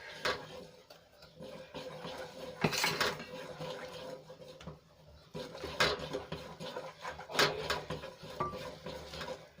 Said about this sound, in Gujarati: વેલણની મદદથી હલાવીને આપણે એનું ખીચું બનાવીને તૈયાર કરી લઈશું